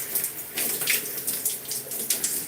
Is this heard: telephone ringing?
no